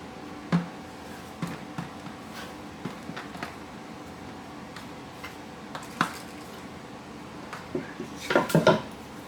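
Cinnamon rolls are dropped one by one into a greased baking pan, making soft, sparse thuds and light taps followed by a brief cluster of metallic clatter near the end, all fairly quiet in a calm kitchen.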